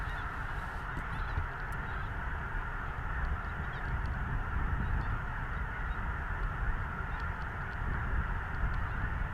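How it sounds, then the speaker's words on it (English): A huge flock of snow geese honking during a North Dakota hunt, a dense, continuous wash of overlapping calls at a distance, steady in level, with no voices. "This is the most amount of geese I've ever seen in my life."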